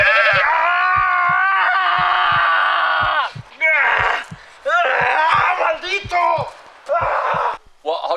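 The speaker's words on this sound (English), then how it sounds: "By day, it's just a normal goat." A goat bleats loudly and repeatedly in close, wavering cries, some long and strained, others short, with brief gaps and a few breathy bursts between calls.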